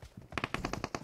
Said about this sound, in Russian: Кто там настреливает?